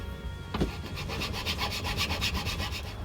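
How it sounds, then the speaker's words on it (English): Steady rhythmic rasping of a file stroking back and forth across a veneered wooden box lid edge, close up, about a dozen quick strokes after a single knock. "this edge just needs a bit of material taken off. I'm going to use a file."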